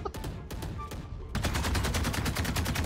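Rapid gunfire in the tactical shooter Valorant, with spaced single shots giving way to a dense sustained burst of automatic fire, loud and close throughout.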